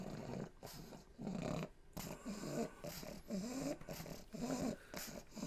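A pregnant dog growls low and rumbling in repeated throaty bursts close by, with brief pauses between each rumble.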